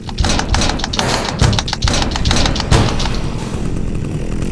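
A chainsaw-wielding zombie in the video game Dead Effect, its saw buzzing and revving loudly and continuously, with heavy thuds and impacts breaking through the roar.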